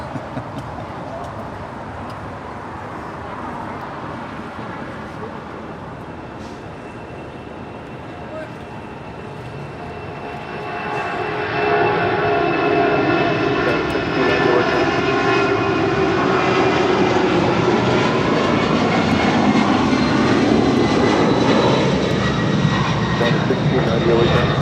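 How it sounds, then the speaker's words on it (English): A former All Nippon Airways Boeing 767 at LAX, its engine roar building from a moderate rumble to a louder, fuller sustained noise about halfway through, with talk audible under it. "This is a former All Nippon Airways 767."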